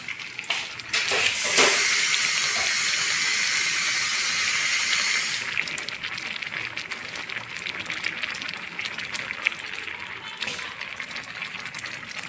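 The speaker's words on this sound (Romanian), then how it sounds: "Hai să mai pun apă" Water gushes and hisses steadily from a tap into a cooking pot for a grandmother's home-cooked meal, loud and continuous for several seconds before easing into a softer running trickle, with faint voices at the start.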